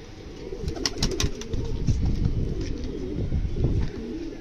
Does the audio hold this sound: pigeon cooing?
yes